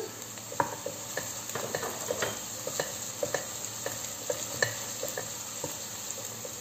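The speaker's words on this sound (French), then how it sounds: "Donc un petit peu de poivron et de tomate. On fait revenir un petit peu." Pepper and tomato concentrate sautéing in a pot for soup, with a close, steady sizzle broken by scattered spatula taps and stirring clicks, no talking.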